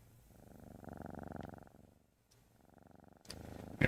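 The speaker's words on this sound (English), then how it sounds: "We can pet the cat. Oh, he purrs." A cat in the video game Moonlight Peaks purrs softly while being petted, a quiet, steady rhythmic rumble that swells, pauses briefly, then resumes.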